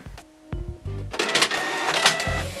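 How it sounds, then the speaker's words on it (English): A Canon PIXMA TS300 inkjet printer starts printing a test page. Clicks and a short motor whir lead into a loud, steady mechanical rattle of paper feeding and the print head moving. "short press will print a printer test page with nozzle check"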